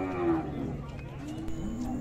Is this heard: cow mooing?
yes